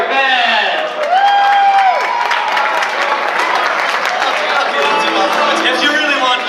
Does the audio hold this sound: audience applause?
yes